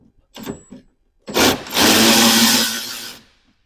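A long socket wrench loosens a 10mm bolt under a car while fitting A35 quad exhaust tips. A couple of short metallic scrapes come first, then a steady, close, grinding rasp lasts about two seconds and fades.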